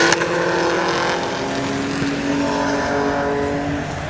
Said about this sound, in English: We've got the CNC Heads Championship cars coming out for qualifying as well.